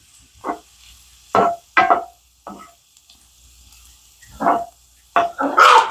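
Small puppy barking in a home kitchen where hamburger, peppers and onions are cooking, several sharp separate yaps spaced across the moment, fairly close, with faint stovetop noise underneath.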